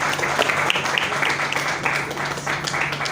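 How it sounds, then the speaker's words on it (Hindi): A seminar audience in Berhampur claps steadily as technical achievers walk up onto the stage, a sustained, fairly loud wash of applause that carries on evenly throughout. "एक बार शानदार तालियों के बीच पे"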